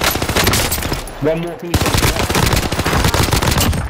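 Rapid bursts of automatic gunfire crackle continuously through a Warzone match, loud and dense, with a brief lull as a voice speaks before the shooting resumes.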